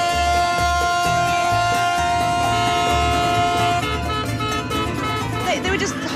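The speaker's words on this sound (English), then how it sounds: "They were just honking because it was the last ferry of the season" Ferry horns sounding a long sustained tonal blast on a Greek island harbour for the last ferry of the season, loud and close with a low rumble underneath, fading toward the end.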